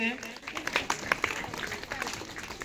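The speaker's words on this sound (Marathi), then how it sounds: "सर्वप्रथम त्यांचं जोरदार टाळ्या वाजून आपण स्वागत करायचंय" A crowd claps loudly to welcome forest department officials at a school World Forest Day gathering. The applause is a dense, steady patter of many hands that holds for a few seconds, with voices mixed in.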